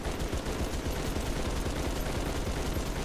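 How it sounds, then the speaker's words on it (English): A minigun in Halo 3 firing in a sustained, dense roar of rapid shots, loud and continuous without pause. "Okay, mag dump into the Mega Mantis here."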